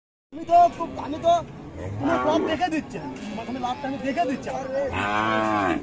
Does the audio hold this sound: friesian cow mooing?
yes